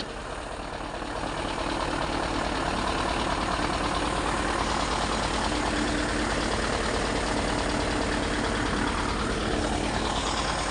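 A truck engine idles in a garage at night, a dense, steady rumble that fills the space evenly and loudly throughout, with no talking over it.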